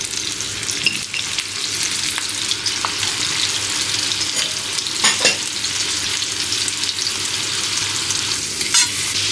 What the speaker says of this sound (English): when the butter is hot, we just add the herbs, we toast a bit